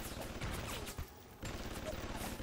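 Two automated turrets fire in Bioshock, a steady stream of rapid gunfire under a noisy game mix, with one brief dip before the shooting resumes.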